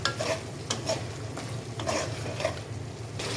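Shrimp curry with ash gourd being stirred in a pan: a soft sizzle runs under repeated scraping strokes of a spatula against the metal, in an uneven rhythm of short bursts.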